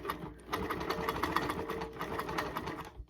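A quilting machine stitches ruler work on a flying geese quilt at a stitch setting of 10, running in a steady rapid chatter throughout, close and fairly loud with no talking.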